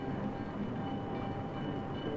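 A train rolls on the Ford Rouge Plant's own industrial railroad in the 1960s, a steady dense rumble of rail cars throughout, fairly loud with no distinct clicks or horn.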